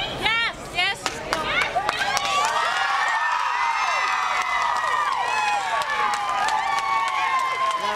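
Outside the Centre County courtroom, a large crowd shouts and cheers loudly on learning the Jerry Sandusky guilty verdict, voices overlapping in a continuous roar with sharper yells near the start.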